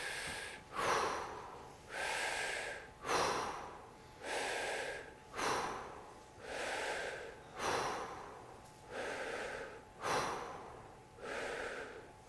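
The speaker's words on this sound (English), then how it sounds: "we're just gonna breathe very shortly and then back out." Rapid, forceful breaths in a Wim Hof breathing exercise, each one a sharp loud inhale and exhale. About ten come in a steady rhythm, close and alone with no talk.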